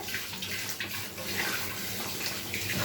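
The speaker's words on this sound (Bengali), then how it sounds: "বাটিটা ধুয়ে, একটু মশলা বাটিটা ধুয়ে দিয়ে দিচ্ছি" Steady running tap water splashes into a spice bowl as it is rinsed in a kitchen while mustard hilsa curry cooks, a continuous close hiss and gurgle with no talking.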